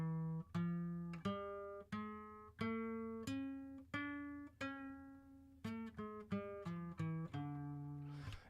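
An E double harmonic minor scale rings out on a plucked string instrument, single notes sounding one after another with sustained decays and a brief faster run near the end, without any talk.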